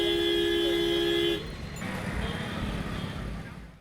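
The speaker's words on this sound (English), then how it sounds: "you are continuously surrounded by all kinds of honking vehicles, jostling with each other for space on broken roads" Vehicle horns honking in congested city traffic on broken roads in Punjab, a loud sustained blare that cuts off, followed by the rumble of traffic and engines close by.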